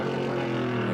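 Onboard engine of the number 42 Motor Master Camaro race car with a 5-speed gearbox, a loud sustained close engine drone at steady revs heading toward a turn.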